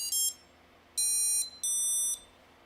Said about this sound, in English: The first 3 beeps are the ESC booting up. The next 2 beeps are from the flight controller.